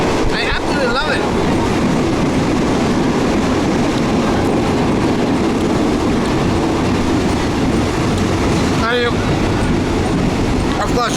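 A Thai passenger train rolls steadily along the rails with a loud, continuous rumble and clatter, brief squeals and rattles cutting through near the start and again toward the end.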